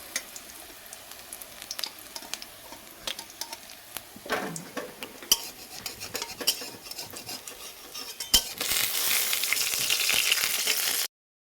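Neem leaf fritters fry in a pan while being stirred: scraping clicks and taps over a crackling sizzle that grows loud and dense toward the end.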